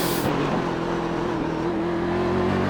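A race car at Sebring International under heavy throttle, its engine holding a loud, steady, sustained drone with a strong tonal whine throughout, close and continuous with no talking.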